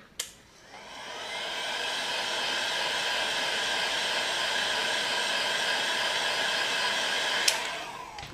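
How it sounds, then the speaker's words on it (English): A hair dryer switches on and blows with a steady, high whooshing hum for several seconds over vinyl wrap on a Nintendo Switch, before clicking off. "Use a hairdryer just to get all the wrinkles out of the wrap"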